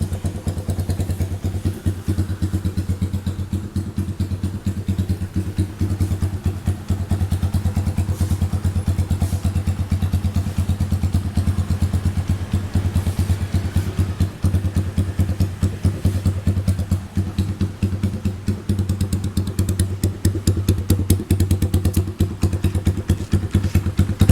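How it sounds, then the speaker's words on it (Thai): A 2017 GPX Legend 200 motorcycle with a loud aftermarket exhaust idles close by with a deep, loud, throbbing exhaust rumble, steady and continuous with a rough, popping texture throughout. "ท่อคันนี้ลั่นอยู่นะครับผม เสียงเพาะๆเลย"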